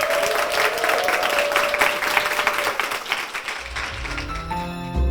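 A church congregation claps in a full, steady round of applause close by. It thins out toward the end as soft music begins.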